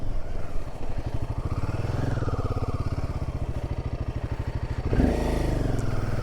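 A motorcycle engine thrums steadily and close on a mountain road in the Spiti region near Kaza, with a brief louder surge toward the end; no talking.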